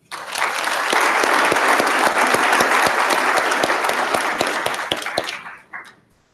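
A full round of applause at a high school commencement ceremony, dense, loud clapping from a large crowd that starts abruptly, holds for about five seconds, then tapers off with a few final claps.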